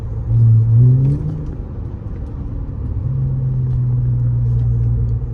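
An Audi A6 car drives with a low engine rumble from inside, rising in a brief rev early on, easing, then settling into a steady hum at higher pitch, no voices.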